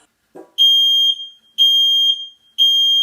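A smoke alarm sounds three loud, shrill, piercing beeps in a steady rhythm, each lasting about half a second, after a brief thud.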